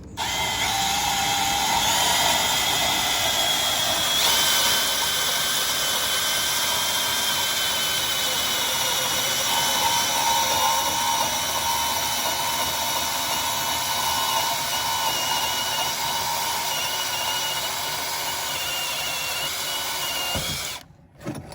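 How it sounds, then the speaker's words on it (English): Milwaukee M18 cordless mini bandsaw cutting through galvanized pipe, a loud, continuous close-up whine of blade on metal holding steady for about twenty seconds before stopping abruptly with a brief clatter. "This is the mini bandsaw, and we're gonna cut."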